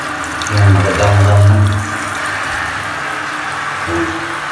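Water runs steadily from the tap of a Stiebel Eltron water heater with no power, a close, even rushing stream with low humming, no talk heard.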